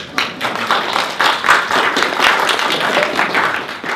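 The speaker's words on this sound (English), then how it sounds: "another round of applause for Doc and Tina" Audience applause for Doc and Tina, a dense wash of clapping from a crowd that rises and falls in steady waves across the whole stretch, moderately loud with no voice above it.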